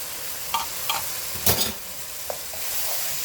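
Ingredients for Bahamian rice stirred and broken down with a utensil in a pan over a faint sizzle, with a few separate scrapes and taps and a louder clatter midway.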